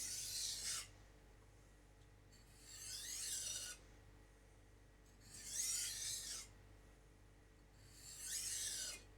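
A knife edge drawn across a coarse 400 grit whetstone in four separate rasping strokes, each lasting roughly a second or more with short pauses between, close and fairly quiet.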